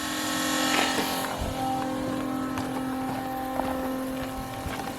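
A pump fills an RV tank at a boondocking site, giving a continuous droning motor hum with a steady tonal whine and light clatter, close by and alone without talk.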